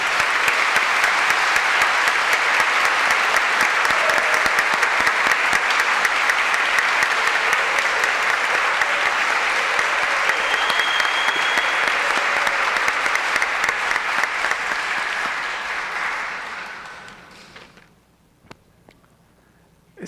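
An audience at a public debate on youth and adult education gives sustained, loud applause after a life testimony. The dense clapping holds steady for about fifteen seconds, then fades out into a few scattered claps.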